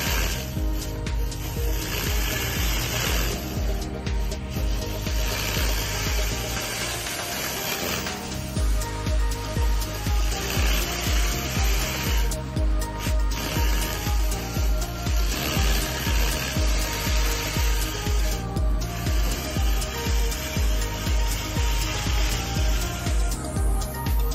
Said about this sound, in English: Polishing roller moving up and down polishing test.